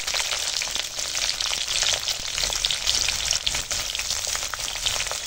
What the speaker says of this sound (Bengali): পেঁয়াজ কুচোটা সুন্দর করে ভেজে নেব ফোড়নের সঙ্গে